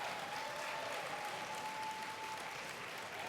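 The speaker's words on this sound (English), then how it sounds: "Let's give them a round of applause" A conference audience claps steadily for a group of young people, a dense, even wash of applause at moderate distance that holds throughout, with a faint steady tone beneath.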